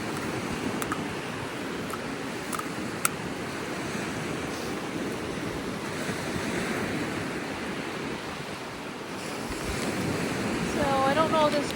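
Wind gusts buffet an unshielded camera microphone outdoors beside rolling surf and ocean waves, a steady loud roar of wind noise and breaking water throughout, swelling near the end.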